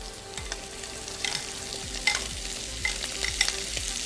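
Corn frying in a pan with chorizo and potatoes: a steady close sizzle with repeated scraping stirs at a fairly regular pace, no voices.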